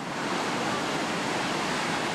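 Constant roar of a Gauley River whitewater rapid, a thick unbroken rush of churning water filling the whole stretch, close and loud.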